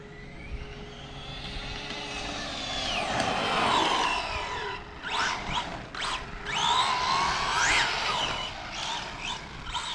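An Arrma Vendetta RC car on speed runs, its low body scraping the ground a little. The electric motor gives a high, continuous whine that rises and falls in pitch as it accelerates and passes, with no talking.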